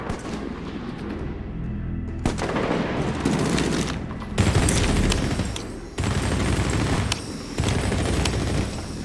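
Rapid automatic gunfire from a Medal of Honor Warfighter combat scene, sustained bursts of loud, dense shots with booming reports, several pauses between volleys, no talking.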